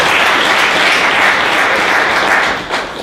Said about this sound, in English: Let's give Roger a round of applause just for filming.